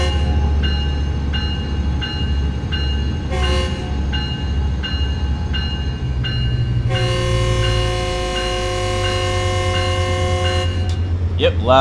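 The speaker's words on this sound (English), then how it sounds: "I love honking the horn, man." Repeated train horn blasts in Train Sim World 4, a passenger train running near Los Angeles Union Station past road crossings; long, loud tonal honks over a steady engine and rail rumble, with someone speaking between blasts.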